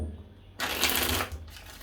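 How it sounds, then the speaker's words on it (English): Tarot cards shuffled by hand, one quick riffling burst lasting under a second that rises from a quiet room and fades, close and crisp, with no talking. "3 more shuffles here"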